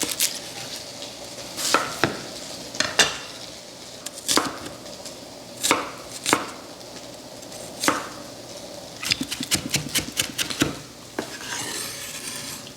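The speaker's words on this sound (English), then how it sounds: "now we're going to take some shallot and we're going to get that prepped and minced." A knife mincing shallot on a cutting board, giving sharp, irregular chopping knocks close by, in short clusters with a quick burst of cuts near the end, and no talking.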